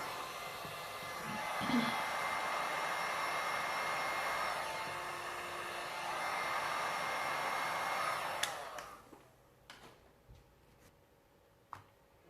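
A heat tool blows hot air onto a resin piece to loosen a stuck object, a steady whooshing drone for about eight seconds that then cuts off, leaving faint clicks and handling sounds.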